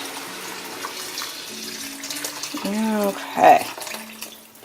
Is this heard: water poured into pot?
yes